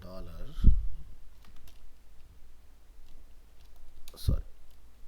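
Someone types on a computer keyboard while coding an e-commerce app, giving a few scattered, close clicks and keystrokes, with a voice speaking quietly alongside.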